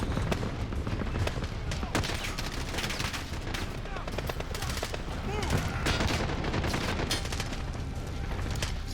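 Dense, continuous gunfire from the Call of Duty video game, rapid automatic bursts and booming shots filling the whole stretch at close range, with voices mixed faintly into the din.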